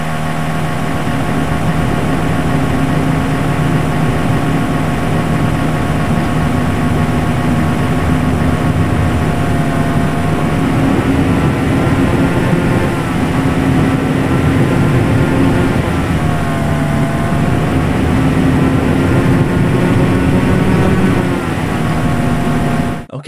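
A car engine running at higher RPMs as a driving sound effect, a loud continuous drone with steady harmonic tones that rise and fall slightly as revs shift, sustained for over twenty seconds without talk.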